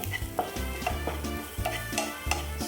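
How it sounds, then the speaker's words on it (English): Food fries in a pan with turmeric and salt, a quiet, soft sizzle broken by repeated rhythmic scraping and stirring strokes against the pan, with no talking. "let it fry"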